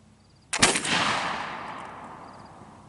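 A single sharp gunshot from a .32 flintlock Pedersoli Kentucky rifle cracks out loud and close, then a long echoing tail fades away over the next two seconds.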